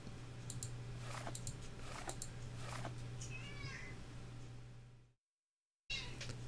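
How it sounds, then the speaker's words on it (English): A cat meows softly several times in a row over a low steady hum, with faint clicking in the background. "Oh, Murphy, stop meowing at me."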